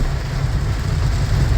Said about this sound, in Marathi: पाऊस बघा मुंबईला किती आहे